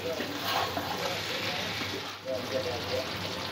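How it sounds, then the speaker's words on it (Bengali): Ghee and garam masala mixture simmering in a pan, a steady sizzling, bubbling hiss that holds evenly throughout at close range, with faint stirring and a voice speaking over it. "ঘি গরম মশলাটা মিক্স করে একটু মিনিট 2 ফুটিয়ে নেব"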